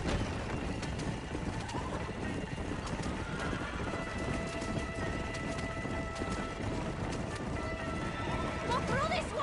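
Horses gallop in the Red Dead Redemption video game, their hooves a dense, continuous clatter within a busy, noisy game scene.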